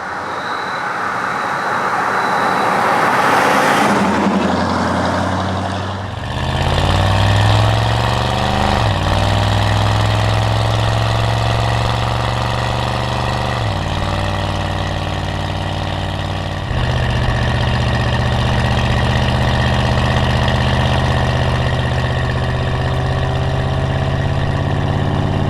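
A 1969 Mercury Cyclone CJ idles loudly and steadily up close, its low engine rumble continuous, with a shift in pitch and load a few seconds in as the car goes into gear.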